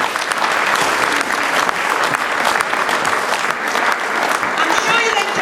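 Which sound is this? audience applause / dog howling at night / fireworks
audience applause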